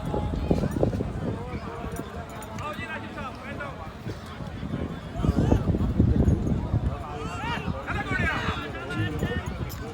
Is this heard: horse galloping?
yes